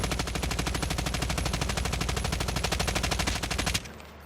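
Rapid automatic gunfire from a video game during recoil control practice at about 20 meters, one continuous fast burst of shots that stops abruptly near the end, with no talk.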